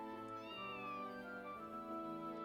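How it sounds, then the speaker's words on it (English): A cat in the video game Trails gives a drawn-out, wavering meow, soft and close, with no one talking. "It's the cat."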